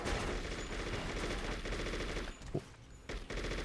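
Rapid gunfire during a rail shooter section of the video game True Crime: New York City, dense bursts of shots with a few brief pauses, loud and continuous.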